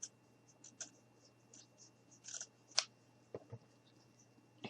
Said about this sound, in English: now we're just going to go ahead and cut a little strip